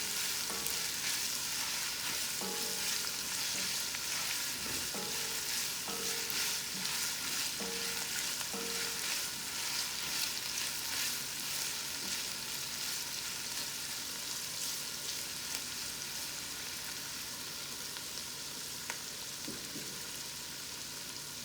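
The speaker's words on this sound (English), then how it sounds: "You can see that our onion is roasting about a minute." Onions frying for pulao while being stirred, producing a steady crackling sizzle with intermittent scraping of a spoon in the pan, close and continuous for a long stretch.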